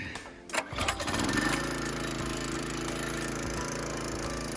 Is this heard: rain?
no